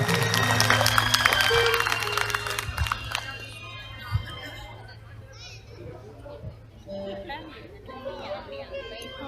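At a CRPF battalion New Year and Raising Day celebration, an audience applauds performers. Loud clapping starts the clip and fades into crowd chatter and children's voices, with a steady hum underneath.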